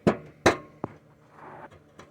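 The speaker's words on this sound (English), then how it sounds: "So you're going to take your hammer, you're just going to tap it down just a little bit." A hammer taps tacks into a rotted tractor deck under repair, two sharp close strikes followed by a lighter tap and faint knocks, with no talking.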